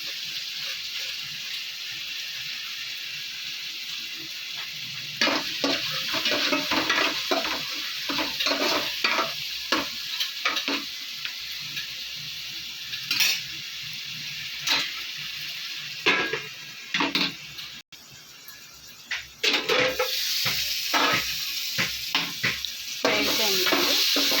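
Ginger garlic paste fries in hot oil for a brinjal curry, a continuous close sizzle broken by repeated scraping and stirring strokes of a spoon against the pan, with no speech.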